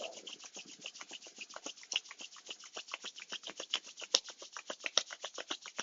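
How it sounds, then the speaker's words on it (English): Hands rubbed briskly together during a yoga session, a fast, rhythmic series of close dry rasping strokes, steady and fairly quiet, alone without any talking. "Bring your hands, rub them together,"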